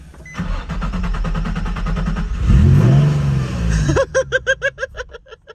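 An engine in a junkyard Nissan 350Z that had sat for five years cranks with rapid starter chatter, catches and roars, then revs in a series of sharp bursts before settling, all up close.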